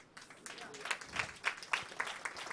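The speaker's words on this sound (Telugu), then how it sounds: "దేవుడికి చప్పట్లు కొట్టాడు" A church congregation bursts into applause at a Sunday service, a short burst of fairly faint, scattered clapping that builds into a steady patter.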